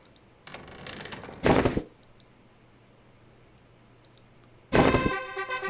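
Computer mouse clicks while EverQuest is played: a few short bursts of clicking near the start, then quiet, then another cluster of clicks near the end, close and crisp.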